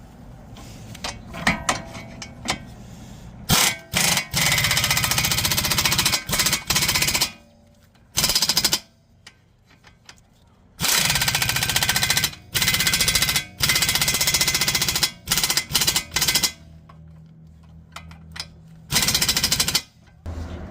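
An impact wrench hammers strut bolts tight on a Toyota Highlander, firing in loud rattling bursts of several seconds each, separated by short pauses, close up and with no talk.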